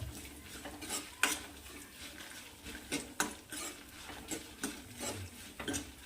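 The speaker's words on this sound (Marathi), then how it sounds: "छान असं मिक्स करून घ्यायचं असं हलवत राहायचं आहे" Red chilli garlic chutney stirred in a pan, soft scraping and clinking of a spoon against metal in irregular strokes over a faint sizzle, quiet and close.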